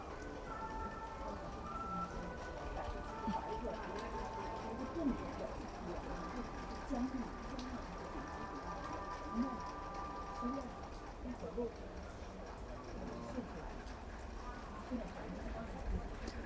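Steady rain pours down in a continuous, even hiss, close and moderately loud, with faint voices and an occasional bird mixed underneath.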